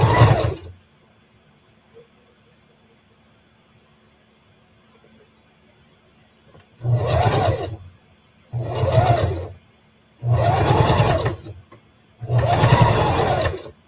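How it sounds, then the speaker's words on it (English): Sewing machine stitching fabric for a Lolita headpiece, running in four separate bursts of about a second and a half each after a long quiet stretch, loud and close with a steady whirring hum. "Please tell me if the machine gets too loud and you would like me to mute the mic."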